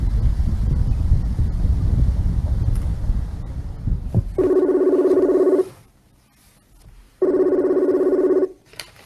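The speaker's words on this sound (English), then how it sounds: "No, it's the wind. I need the wind to stop." Outdoors, wind buffets the microphone in a loud, low, rumbling roar for about four seconds. It then gives way to two bursts of an electronic ringing tone separated by quiet.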